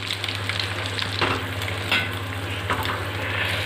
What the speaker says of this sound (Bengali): ফেটিয়ে রাখা ডিমটাকে, কড়াইটাকে আপনারা ঘুরিয়ে ঘুরিয়ে করে নেবেন